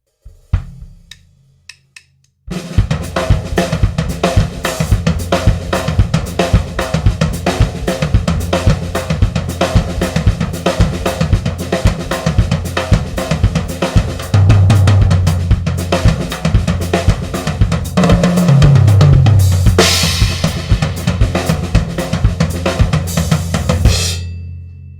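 A drum kit plays an open-handed cinquillo rhythm in a Caribbean jazz style, the left hand carrying the syncopated pattern against steady cymbal and drum strokes, loud and close, running continuously after a few sparse opening hits.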